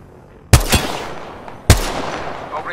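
Two sharp, loud gunshots in an Apex Legends-style shooter video game, about a second apart, each leaving a short decaying tail.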